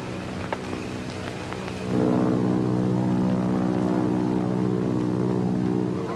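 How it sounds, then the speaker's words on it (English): A propeller airplane flies overhead in an old jungle adventure film, its steady droning engine swelling louder partway through and holding on with no dialogue. "Do you hear a plane?"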